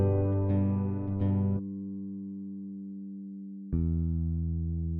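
Synth bass holding sustained root notes with strong low harmonics, a few brighter attacks early on, one long note held, then a new note entering near the end; clean and alone, no voices.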